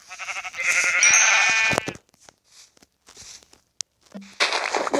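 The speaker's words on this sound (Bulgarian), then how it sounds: "Овца!" A sheep bleats loudly and close, a wavering cry lasting about two seconds, then quiet shuffling and small knocks, followed by another bleat and a voice at the end.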